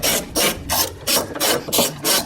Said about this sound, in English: wrench or ratchet to loosen and remove that bolt